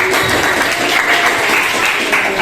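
A classroom of students applauds a student group, a dense, continuous round of many hands clapping close by with no break.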